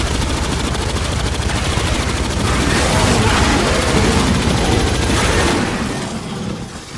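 Grenade blast amid sustained automatic gunfire in Aliens: Fireteam Elite, a loud, dense wall of rapid shots and booming bursts that holds for several seconds before tapering off.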